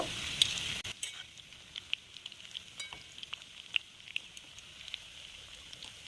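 Boiled egg pakoras coated in batter fry in oil in a wok with a soft, steady hiss and scattered crackles and pops, quiet and fairly close, with no talking.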